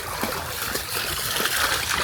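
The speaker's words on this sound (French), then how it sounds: "Les petits ruisseaux comme ça fait plaisir." A small stream in the Fontainebleau forest trickles and splashes close by, a continuous bubbling babble with light gurgles and no speech.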